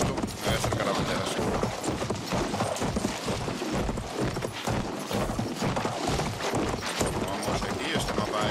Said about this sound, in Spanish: me voy a acercar con el caballo, que es bastante rápido